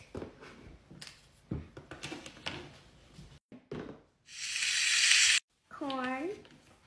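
A toy barbecue grill set makes a short burst of electronic sizzling as a toy steak is cooked, coming after a run of small plastic clicks and knocks, with a high chirping tone at the end.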